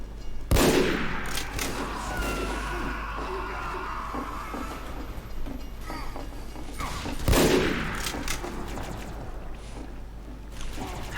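In Team Fortress 2, two sharp sniper rifle shots crack out several seconds apart over a steady bed of game ambience and background battle noise.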